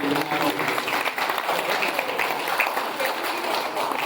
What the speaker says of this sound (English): I would like you to huge round of applause for Digimantra Labs and Sajid sir